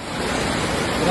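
Strong floodwater rushes through a subdivision in Baguio City during heavy rain, a dense, roaring wash of water with wind-like noise, loud and steady throughout the brief moment.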